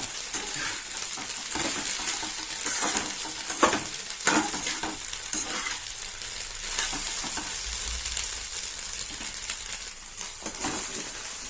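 Egg and ponnaganti greens deep frying in a pan with steady, loud oil sizzle, while a spatula repeatedly stirs and scrapes through them, with no talk.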